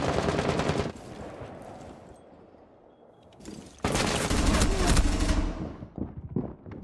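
Loud bursts of automatic gunfire in a multiplayer shooter game, a sustained volley at the start, quieter gaps, then a heavier extended barrage, with no talking over it.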